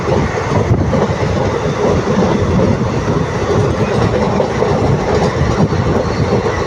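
A passenger train rolls steadily along the rails between Villupuram and Puducherry, a loud continuous rumble and rattle heard from close by, with no talking.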